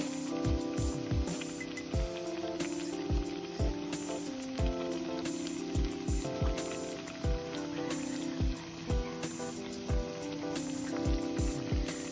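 Vadas made with green peas and fenugreek leaves fry in hot oil with a soft, continuous crackling sizzle, mostly buried beneath loud rhythmic background music.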